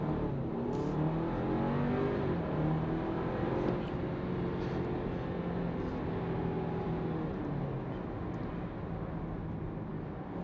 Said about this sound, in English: Foot hard on the brake, pin the accelerator.